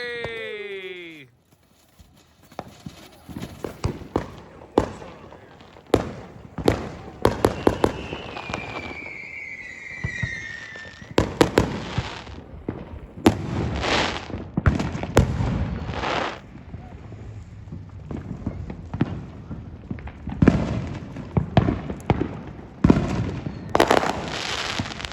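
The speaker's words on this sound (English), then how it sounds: "We got them from the fireworks stand." Fireworks from a roadside fireworks stand burst in a string of sharp cracks and pops, some near and loud and some farther off, with whistling rockets and occasional voices between the bangs.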